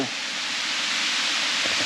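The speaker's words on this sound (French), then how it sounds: "Comment il y a une cascade à l'intérieur d'une caverne?" Waterfall pouring inside a cave, a steady, dense roar of rushing water that fills the space continuously and evenly throughout, close and loud with no pauses.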